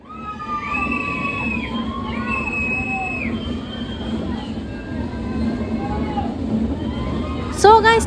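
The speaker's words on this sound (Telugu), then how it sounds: "మనం ఒకేసారి టనల్లోకి వెళ్ళగానే ప్రతి ఒక్కరు అరుపులు, కేకలు, విజిల్స్ అయితే మీరైతే విన్నారు." Train passengers shout, cheer and whistle together inside a tunnel near the Borra Caves, a loud echoing crowd roar with long rising whistles and a sharp burst at the end.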